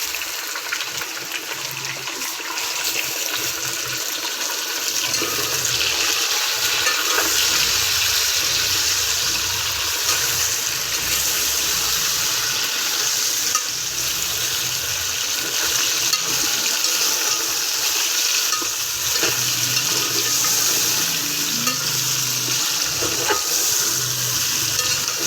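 Chicken with ginger frying in a pan for chicken pulao gives a steady, loud sizzle throughout, with occasional scraping and clinks of stirring and no talk.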